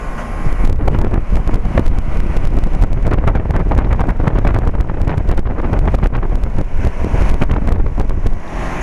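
A 2003 Rheem Classic 1.5-ton heat pump starts up in heat mode outdoors, giving a loud, continuous whooshing roar mixed with wind buffeting on the microphone.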